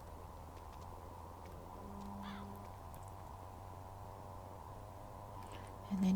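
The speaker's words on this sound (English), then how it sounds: "Try to get through all these birds." Birds caw in the Everquest 2 video game, a few short calls rising over a quiet, steady ambient hum.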